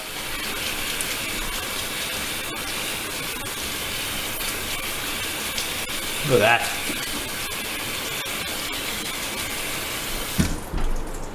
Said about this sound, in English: Just splash it around with a bit of cold water.